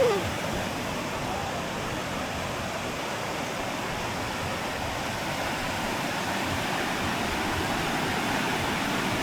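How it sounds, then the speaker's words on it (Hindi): Fast-flowing river water at a hidden riverside spot near Upper Dudhiya, Darjeeling, a steady broadband rush that holds at an even level throughout with no break. "ये देखो कितनी तेज़ पानी बह रहा है।"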